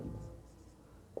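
Chalk or marker writing on a classroom board during a Hindi grammar lesson, short faint scratchy strokes ending in a single sharp tap, quiet and close.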